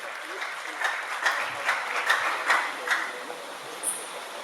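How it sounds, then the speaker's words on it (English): Sparse audience applause for Dr. Kanyewa at a university job fair, a thin scatter of claps with a few sharper, louder hits recurring at a loose, uneven rhythm. "Can we have a round of applause for Dr."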